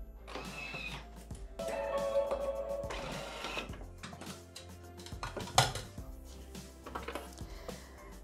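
A Thermomix kitchen machine kneads bread dough in its dough mode, giving a faint, uneven mechanical whir with knocking and clattering from the bowl, rising and falling, plus a single sharper clunk partway through.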